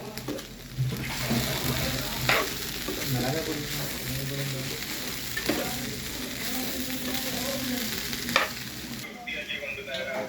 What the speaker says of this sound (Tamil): இப்போ தேங்காய் ஜீரகம் சேர்த்துருக்காங்க நல்லா மிக்ஸ் பண்ணி விடணும்